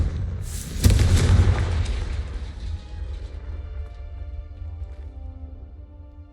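The Confringo explosive spell from Hogwarts Legacy goes off as one loud burst, then a rumbling boom tails off over several seconds beneath quiet game ambience.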